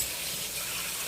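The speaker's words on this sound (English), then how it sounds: "And I think it might need just a little more liquid." Liquid pours steadily into a pan of plant-based taco crumble, a soft continuous hissy splash lasting about a second, close and alone with no talking.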